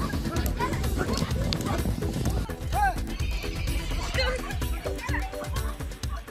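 Racehorses trained by jockeys gallop on a river sandbank. Their drumming hoofbeats run throughout, with a couple of sharp whinnies partway through, under a voice narrating.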